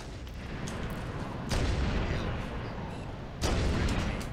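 Grenade blasts in Halo: Combat Evolved multiplayer, two sharp booming bursts a couple of seconds apart over a steady din of gunfire and combat noise.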